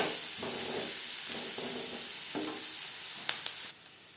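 Onions frying in oil for a fish curry, a steady broadband sizzle holding at constant loudness, with a few faint stirring scrapes before the sizzle drops lower near the end.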